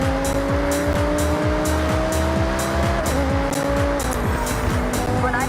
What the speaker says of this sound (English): this V10 powered supercar can manage a top speed of 205 miles per hour